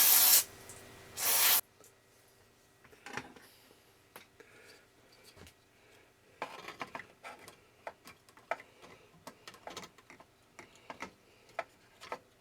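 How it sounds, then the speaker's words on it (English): Several quick bursts of aerosol cleaner spray onto Yaesu FT-101 ham radio parts at the start, followed by faint ticks and small handling sounds of work on the components. "Go ahead and spray it down."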